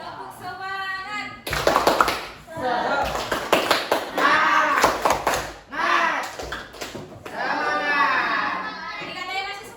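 Children in a classroom perform the 'tepuk semangat' clapping chant, sharp rhythmic claps in bursts mixed with their chanted voices, loud and close, with an adult voice leading between rounds.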